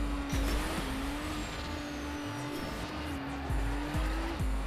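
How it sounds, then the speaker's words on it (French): Game car in Trackmania Turbo sliding across dirt, its engine holding a steady loud drone with pitch dips and recoveries as it slips and regains grip, continuous tire and gravel noise underneath. "Ça glisse énormément dans la terre,"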